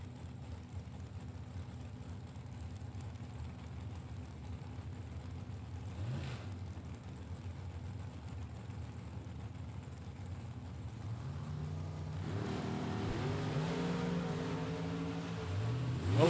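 Drag racing cars in a Super Pro bracket event revving at the line, then engines swelling into a rising roar as they launch and accelerate away, distant and muffled, no voices.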